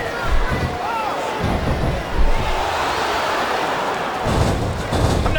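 A loud arena crowd in the wrestling video game WWE SmackDown vs Raw 2007 roars continuously, with swelling chants and some thumping impacts layered under the steady crowd noise.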